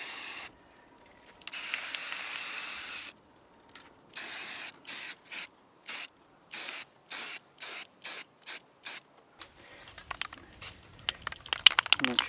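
A spray paint can hisses over snow goose decoys, first in two long continuous blasts, then in a regular series of short, evenly spaced bursts, before fading into light rustling and handling noise.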